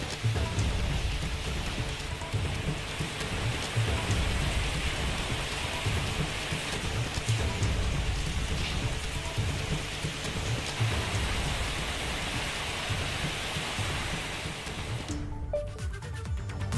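Heavy monsoon rain pours down in Dharchula, Pithoragarh, a loud, dense, unbroken roar of falling water that continues for about fifteen seconds and then cuts off abruptly near the end.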